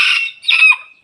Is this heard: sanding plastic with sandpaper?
no